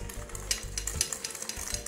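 Milk, egg yolks and sugar stirred together in a pot, with rhythmic scraping and light clinks of a utensil against the metal over a faint bubbling undertone.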